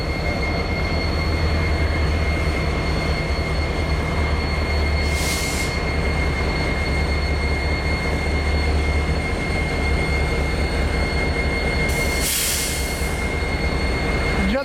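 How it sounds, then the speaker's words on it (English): A train rumbles steadily past with deep, continuous low-end roar and a faint high whine, briefly joined by hissing bursts of air or brakes. "Train's coming."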